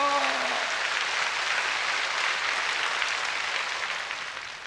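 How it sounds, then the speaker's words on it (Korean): A large church congregation applauds to give glory to God, a dense steady wash of clapping that fills the space and tapers slightly at the end, with a brief voice fading out at the very start. "하나님께 영광 박수 돌립시다"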